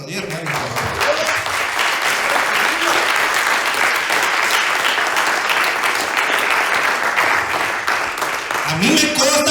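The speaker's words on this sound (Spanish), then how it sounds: "yo voy a aplaudir, ayúdame a aplaudir, hermano" Congregation clapping together in a church, a dense, steady wave of applause that fills the whole stretch, with voices rising faintly at the start and end.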